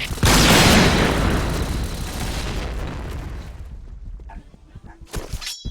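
A sudden loud explosion booms and rumbles, then decays over several seconds into quieter debris and crackling.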